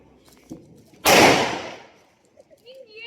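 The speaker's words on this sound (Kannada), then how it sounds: "ಹಿಂದ್ಗಡೆ ಪಟಾಕಿ ಜಾಕಿ ಅನ್ನೋರು ಹೊಡಿತಾ ಇದ್ದಾರೆ" One loud Diwali firecracker bang cracks nearby and rumbles away for about a second, with faint voices before and after.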